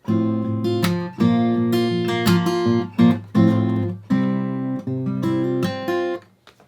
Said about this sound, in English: Measure 17 and 18 are where the first guitar slide break happens